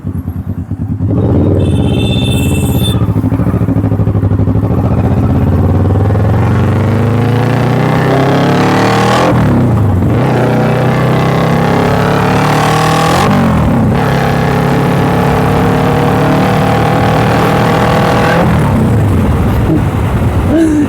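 A Kawasaki Ninja motorcycle accelerating along a main road, loud and close, its engine rising in pitch through several gears with brief dips at each shift before climbing again.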